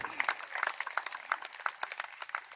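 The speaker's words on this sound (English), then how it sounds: "Yes, give them applause." Audience applause at a Worthington City Band concert intermission, a steady wash of many hands clapping at moderate distance with no talk over it.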